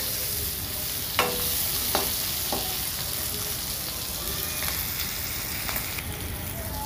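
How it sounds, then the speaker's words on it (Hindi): Okra frying in a pan over a medium flame, stuffed bharwa bhindi style, gives a steady close sizzle with a few sharp scraping clicks as it is stirred, and no voices. "तो अब हम भिंडियों को थोड़ा चला लेंगे।"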